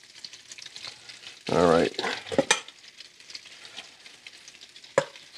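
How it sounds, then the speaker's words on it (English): Salmon pieces sauté in a hot pan for a honey garlic salmon bites recipe, giving a sharp burst of sizzling and a few scrapes and clinks of a utensil, with a brief spoken remark. "we're just going to go ahead on and let it saute up on each side"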